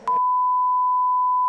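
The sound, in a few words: censor beep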